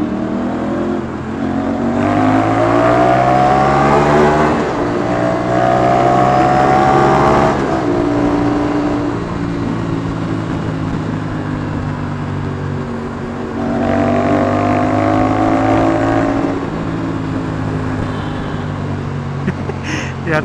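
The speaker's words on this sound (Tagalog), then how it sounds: "Grabe, paputok talaga." An Aprilia RS 457 sportbike, a 450cc machine, revs loudly in second gear while ridden, its engine rising and falling in repeated surges with rough crackling from the exhaust, steady and close throughout.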